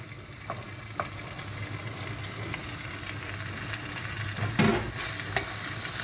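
Boiled borlotti beans stirred in a pan with tomato, giving a soft steady sizzle with a few light scrapes and clinks of the spoon, loudest near the end.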